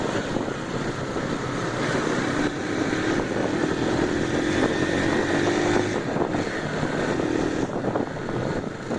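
A motorcycle engine drones and revs steadily outdoors, rising in pitch for a while mid-clip, with wind buffeting the microphone.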